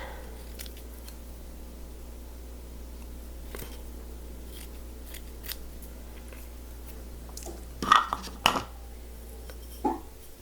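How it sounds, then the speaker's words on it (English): Scissors make a few short snips through craft material in a wavy cut for a mixed-media altered jar. The snips are brief and fairly quiet over a low, steady room hum, clustered near the end. "I like the idea of cutting it a little bit wavy"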